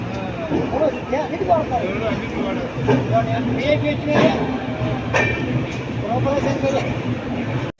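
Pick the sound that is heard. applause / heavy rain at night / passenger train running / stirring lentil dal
passenger train running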